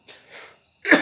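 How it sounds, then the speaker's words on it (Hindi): A single short, sharp human cough bursts out after a couple of faint breathy sounds, close and fairly loud. "खांसी हो रहा"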